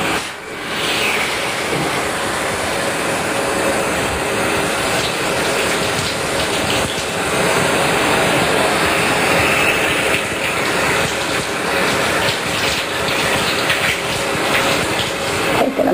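Steady broadband rush of shower water running in a bathroom while the temperature is adjusted, continuous and fairly loud throughout with no talk over it.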